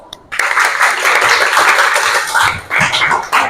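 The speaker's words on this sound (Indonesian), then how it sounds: "Oke, tepuk tangan dulu." A Grade 8 junior high class claps hands together in a classroom, a dense burst of many hands lasting a few seconds with brief dips, loud and close.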